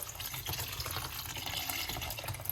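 Steady stream of water poured from a kettle, splashing as it rinses, close and continuous for a couple of seconds with no voices.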